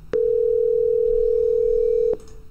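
A call tone from the Bria desktop softphone app: a single steady electronic tone lasting about two seconds, starting and stopping with soft clicks.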